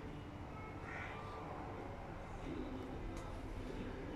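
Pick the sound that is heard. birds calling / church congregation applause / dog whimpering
birds calling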